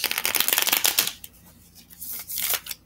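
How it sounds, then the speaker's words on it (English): A deck of tarot cards shuffled by hand, a dense riffling patter for about a second, then quieter, briefer bursts of card handling close to the mic. "Shuffling the deck"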